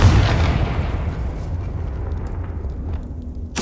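A Confringo spell blast in Hogwarts Legacy, a loud booming explosion that hits at once and rumbles as it fades over a few seconds, followed by a sharp burst at the end.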